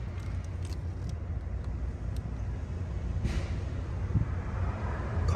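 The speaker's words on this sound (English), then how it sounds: "Car just going by." A car passing outside a repair shop, a steady low road rumble that swells slightly toward the end, heard alone without voices.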